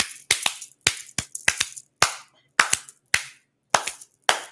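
Sharp hand claps ring out alone in an uneven rhythm, about a dozen crisp, loud slaps with short pauses between them, played as a soul clap.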